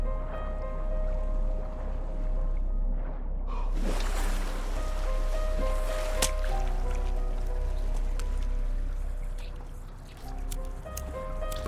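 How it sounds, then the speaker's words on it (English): Wet squishy noises echo inside a dark cave in the survival game The Forest, with drips and liquid squelches over a low ambient drone, growing busier partway through and continuing steadily. "hearing some weird squishy noises"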